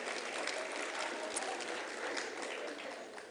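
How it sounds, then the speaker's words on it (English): Audience applause at a women in science awards ceremony, a faint, steady wash of many hands clapping that continues evenly and tapers slightly at the end. "Let's give them a round of applause."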